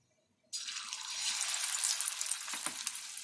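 Potato slices coated in besan and semolina batter are dropped into hot oil in a deep pan, bursting into a sudden loud, bubbling sizzle after a brief silence that continues steadily.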